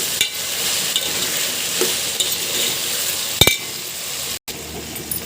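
Eggplant cooking in a pan, a steady sizzle broken by a few stirring scrapes and a light clink, then a brief dropout before the frying resumes; no voices.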